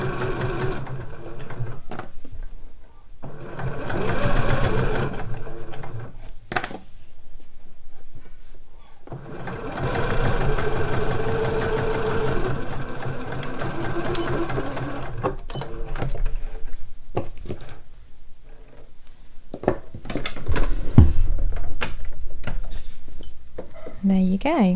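Sewing machine stitching the front of a slipper boot in runs of steady mechanical whirring broken by pauses with small clicks and handling noises, close and fairly loud.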